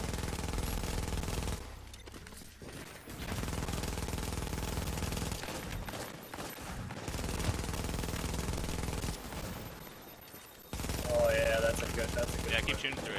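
Sustained automatic gunfire from the online shooter The Division, rapid bursts with a few brief pauses, fairly loud and close, over game sound effects and a low background hum.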